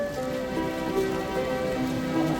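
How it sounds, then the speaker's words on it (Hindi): Heavy rain falls at Kedarnath, a dense, unbroken hiss of downpour close around, steady for the whole stretch with no voices. "काफ़ी बारिश हो रही है यहाँ पर केदारनाथ में।"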